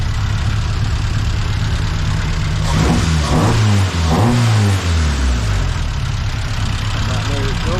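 Car engine fitted with a new exhaust and running a bit rich, holding a steady idle, then revving up and back down twice in the middle, loud and close.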